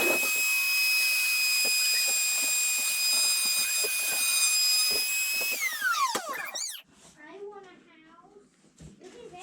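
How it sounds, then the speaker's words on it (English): A Dremel whines at a high steady pitch while cutting a saddle slot in a guitar bridge, then winds down and stops, followed by quiet handling and faint speech. "I've got the dremel ready to go. And I'm about to take the first pass."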